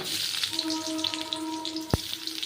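Onions hit hot oil tempered with dried chillies and cumin, giving a steady soft sizzle with a brief sharp pop near the end.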